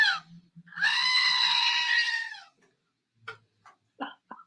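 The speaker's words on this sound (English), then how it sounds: "This is where you would insert the goat scream." A goat lets out one long, loud, bleating scream lasting over a second, followed by a few short faint clicks and brief sounds.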